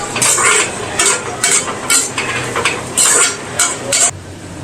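Onions for an Assamese-style egg bhurji fry loudly in a pan while a spoon pushes them around in several bursts of hissing, scraping strokes, close up and without talk.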